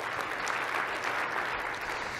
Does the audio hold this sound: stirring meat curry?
no